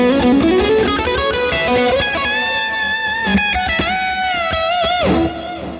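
Lead electric guitar through a medium gain amp preset with a compressor used as an input boost plays sustained, singing melodic notes with bends and slides under long reverb and delay, close and loud, ending in a ringing tail.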